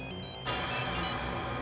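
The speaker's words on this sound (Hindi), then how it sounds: "लगता है उसका फोन आ गया" A phone ringtone in a TV crime drama scene, starting abruptly partway in and sustaining a bright electronic tone at steady loudness, with no talking over it.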